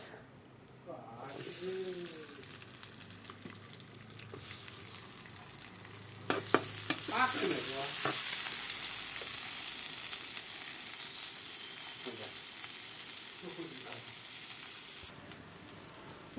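Chopped onion dropped into hot mustard oil in a wok, bursting into a loud steady sizzle with occasional stirring scrapes, heard up close and continuing for a long stretch without talk.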